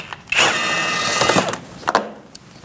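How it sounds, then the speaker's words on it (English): A 7mm socket backs out screws on a Chevrolet HHR (2006-2011, 2.4L) during transmission cooler line work, a steady whirring drive lasting about a second followed by a couple of short clicks, close and fairly loud with no talk. "use a push pin puller and a 7mm socket to take out these two screws"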